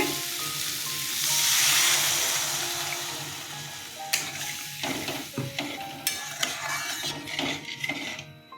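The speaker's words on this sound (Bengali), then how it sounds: "কষানো হয়ে গেছে জল দিয়ে দিচ্ছি" Water poured into a pan of sizzling cauliflower curry (phulkopir dalna) sets off a loud surge of hissing that swells early, then settles into steady frying broken by sharp scraping stirs and clinks near the end.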